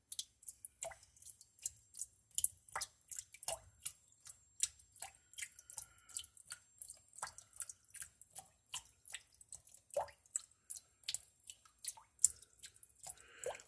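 Water draining from a bathroom sink drain: irregular dripping, trickling and gurgling splashes, close and fairly quiet, with no talking.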